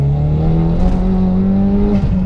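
Hybrid-turbo Vauxhall Astra VXR hot hatch of 355 bhp pulling hard on boost, a steady droning engine note rising slightly in pitch, loud and close from inside the car with no talking.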